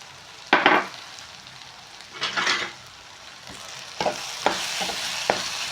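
Onions and masala for egg burji are stirred in a pan with turmeric, salt and chilli powder: two bursts of spatula scraping over a low sizzle, followed by a few sharper taps against the pan.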